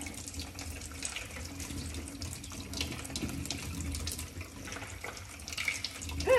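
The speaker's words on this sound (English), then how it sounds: "Now you've got to wash your celery heart out." Water runs steadily from a kitchen tap as a celery heart is rinsed and rubbed beneath the stream, a constant close splashing hiss throughout.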